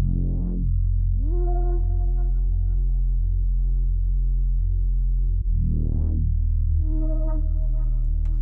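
Futuristic synth running through a Guitar Wamolo filter preset, droning tones that pulse in a steady wobbling rhythm with rising sweeps near the start and middle, loud and alone with no voices.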